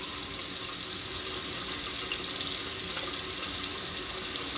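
Steady tap water runs continuously into a sink, a constant broadband hiss with no pauses, close by and fairly loud.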